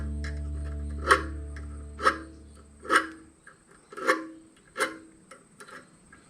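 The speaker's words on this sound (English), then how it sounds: "Now I'm just going to file off the burrs on this end again." A hand file rasping burrs off the cut end of brake line tubing, five slow, distinct scraping strokes about a second apart, close and isolated, with a low hum fading out early.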